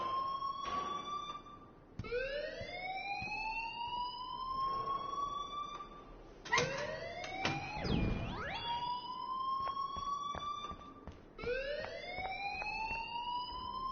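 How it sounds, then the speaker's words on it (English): A wailing, rising siren-like alarm from the video game Life is Strange sounds loud and close, repeating in sweeping cycles with brief gaps and a louder burst partway through. "please turn off that alarm since that's your job"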